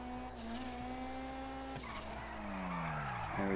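Car tires squeal and skid through a sharp turn, a long tonal screech that bends in pitch over engine noise, fairly faint and sustained, with no talking.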